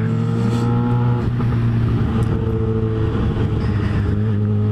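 A BMW M3 engine hums loudly and steadily close by, a sustained low drone with slight shifts in pitch, no speech over it.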